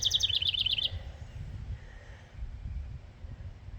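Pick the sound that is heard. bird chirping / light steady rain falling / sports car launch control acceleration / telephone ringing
bird chirping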